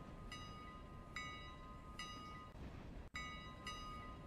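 Train brakes in the railway game Railroader: repeated high, steady squealing tones over a constant rolling rumble, starting and stopping in several spaced bursts.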